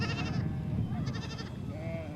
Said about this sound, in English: After grazing in the mountains, the animals are returning and being driven into their les or enclosures where they will be milked.